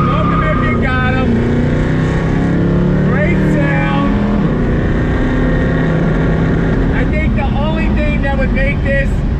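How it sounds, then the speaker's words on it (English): A 1970 Plymouth Cuda AAR with carburetors, its engine loud and close as it pulls away from a light on throttle, revving up through rising and falling tones, with someone talking over it. "pulling away from the light, on throttle"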